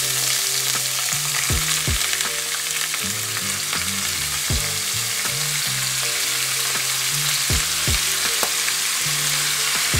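Shrimp frying in a hot pan with a dense, loud, unbroken sizzle and spatter, punctuated by a few sharp utensil taps, and background music running throughout.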